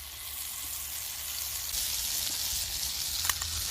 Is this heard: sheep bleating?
no